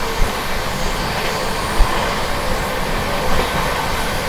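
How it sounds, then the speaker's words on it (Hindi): An Amrit Bharat Express train speeding out of Subedarganj, a loud steady rushing roar with a few sharp wheel thumps, heard close and without talk. "सूबेदारगंज से निकलते क्या ही रफ्तार पकड़ी है भाई अपनी अमृत भारत एक्सप्रेस ने।"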